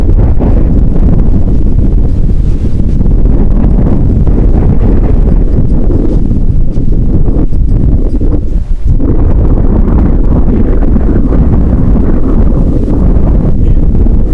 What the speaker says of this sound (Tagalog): Tingnan nyo mga kaigops oh. Kalakas ng habagat yan oh.